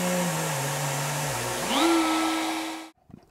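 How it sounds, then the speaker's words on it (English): Wood router cutting the neck pocket of a Telecaster body from a template: a loud steady motor whine that dips under load, then rises in pitch as it spins free and cuts off abruptly near the end. "I've got my depth set on the router."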